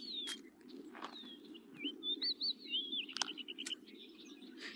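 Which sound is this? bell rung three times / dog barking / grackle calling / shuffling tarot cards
grackle calling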